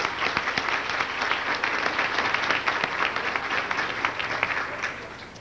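An audience at a conference luncheon breaks into sustained applause, a dense, fairly loud wash of many overlapping claps that holds steady and then tapers off at the end.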